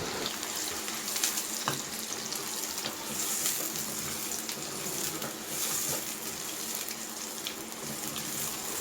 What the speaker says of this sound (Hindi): बस इस प्याज को अच्छे से सौते कर लेंगे।